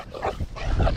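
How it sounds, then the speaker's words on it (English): Dogs bark in quick, rough bursts close by, several overlapping woofs in under a second against outdoor background noise. "here comes the dogs again"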